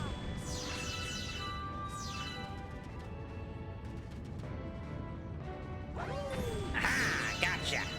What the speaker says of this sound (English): This is also a good way to grind Starbits, is by smashing these things